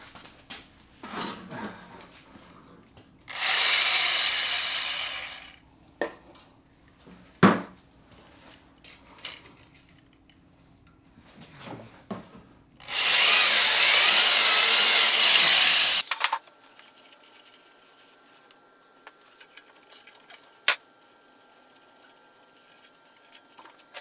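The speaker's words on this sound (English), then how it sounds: "I bought a smaller hone to try to clean up these journals" A small power hone scours the crankshaft main journals of a Datsun Z race car engine block in two loud whirring passes of a few seconds each, separated by clanks and handling noises, with no talking.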